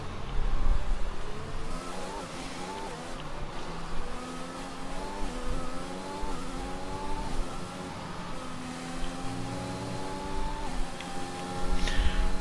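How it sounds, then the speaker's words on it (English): Formula 1 car engine from the F1 2021 racing game, carrying an electric whine over a steady, loud, rising and falling engine note through gear changes, continuous and alone without talk. "these cars sound the same in 2021. Only they have an electric whine."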